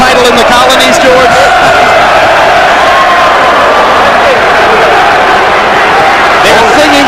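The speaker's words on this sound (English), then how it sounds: "They're cheering downstairs. The applause is building." A crowd cheers and applauds at the Holyfield vs Lewis boxing match, a dense, continuous roar that swells and holds, with a commentator talking loudly over it.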